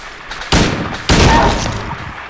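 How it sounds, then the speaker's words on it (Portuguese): Gunshots fired at a creature in the video game Silent Hill 2: two loud, sharp blasts about half a second apart, each followed by a short decaying tail, with no talking. "Nos tiros, por exemplo, que o James está dando agora nessa criatura"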